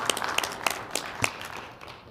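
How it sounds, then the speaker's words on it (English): Applause at a city council meeting in Las Cruces: a few scattered, sharp hand claps from a small group in the room, irregularly spaced and moderately close, fading out toward the end. "So I just wanted to give you some applause."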